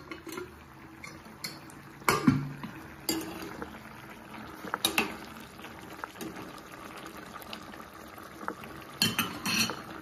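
Chicken cooking in a dry, heated pan for Madurai-style chicken chintamani, with metal utensil scrapes and clinks against the pan over a steady low sizzle, including several sharper knocks, no talking.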